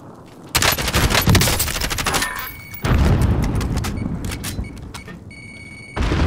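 Rapid bursts of automatic gunfire and booming shots in the Call of Duty video game, loud and close, coming in dense volleys with brief pauses between them.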